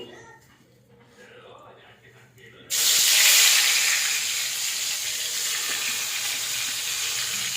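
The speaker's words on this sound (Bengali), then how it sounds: "তেলটা গরম হয়ে গেলে এই মাছটা আমি ভেজে নেব।" Fish dropped into hot oil bursts into a loud, steady sizzle that starts abruptly and keeps hissing close up after a quieter lead-in, with a voice speaking over it.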